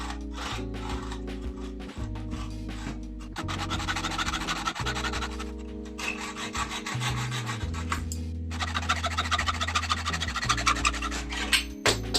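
Metal rods being cut to size for bearing needles, a continuous close rasping and scraping that runs for the whole stretch in steady strokes over a loud low background hum.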